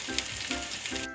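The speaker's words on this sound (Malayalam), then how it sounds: "വെളുത്തുള്ളി ഇടുന്നു, ഇഞ്ചി ഇടുന്നു, ഒന്ന് വാടട്ടെ." Garlic and ginger sizzle steadily in a hot pan for a chicken roast curry, a close, continuous frying hiss with slight stirring texture and no voices.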